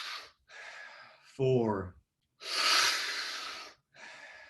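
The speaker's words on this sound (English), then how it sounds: "We're going to go 5 more breaths as a group." Deep breaths in a group breathing practice: several loud, long inhales and exhales in sequence, separated by short pauses, with a brief spoken count in between.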